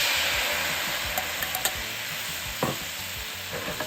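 Teriyaki sauce made with cooking sake and mirin bubbling in a pan with onion, a dense steady sizzle with a few sharp stirring clicks, close and constant, no voices.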